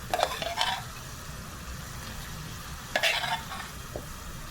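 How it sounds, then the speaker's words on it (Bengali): Meat frying in a pan with spice masala, a low steady sizzle with several scraping stirs of a spoon against the pan, close and fairly quiet. "মাংস দেওয়ার পরে মশলাগুলা ভালো করে কষানো হয়েছে"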